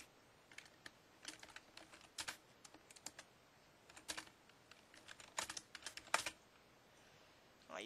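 Fingers type on a computer keyboard in bursts of quick, close, crisp key clicks with short pauses between runs, quiet and with no talk.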